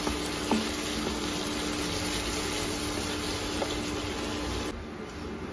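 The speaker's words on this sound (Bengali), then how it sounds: "আরেকবার ঢাকনা খুলে ভালো করে নাড়িয়ে নেবেন যাতে তলায় লেগে না যায়" Bottle gourd curry with bori sizzles steadily in a pan on an induction cooktop, a continuous close frying hiss with faint scraping from stirring and no voices.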